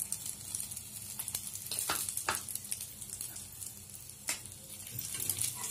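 Egg batter for a bread omelette sizzles steadily in a hot pan, a continuous close frying hiss with a few sharper crackles and light scraping, no voices.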